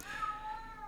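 A cat gives one drawn-out, falling meow, close and clear, with no other sound around it.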